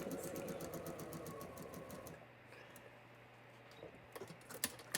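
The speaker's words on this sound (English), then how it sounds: "this is how I sew all of the blocks, all of the squares to the rectangle" Sewing machine stitching quilt block squares to a rectangle, a fast rhythmic needle chatter for about two seconds, then stopping, leaving a low hum and a few soft clicks.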